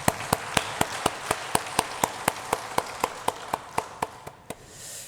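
A church congregation claps for the worship team in sharp, evenly spaced beats at a steady tempo, fairly soft and alone, fading out near the end.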